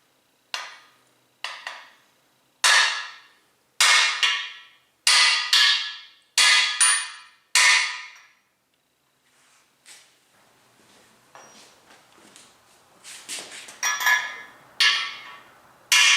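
A hammer drives a plug into an old 383 stroker engine block through a 1.5 inch socket, giving about eight sharp, ringing metallic strikes, then softer scattered taps and a few more blows, close and alone.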